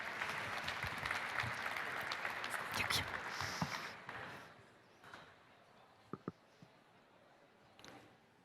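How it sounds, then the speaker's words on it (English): An audience at an embassy welcome reception applauds a speaker coming on stage, a few seconds of mixed clapping that fades out, followed by quiet room noise, scattered taps and footsteps. "Please welcome Khrystyna Faichak with your applause"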